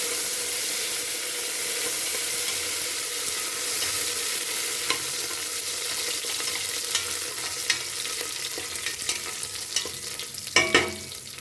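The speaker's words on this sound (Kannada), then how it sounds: "ಸ್ವಲ್ಪ ಪ್ರಮಾಣದ ಕೊತ್ತಂಬರಿ ಮತ್ತು ಪುದೀನ, ಇದು ಚೆನ್ನಾಗಿ ಫ್ರೈ ಆಗಬೇಕು." Coriander and mint fry in a pan for a vegetable curry, giving a soft, even sizzle with light stirring. Sharper utensil clatters grow louder toward the end, and no one talks.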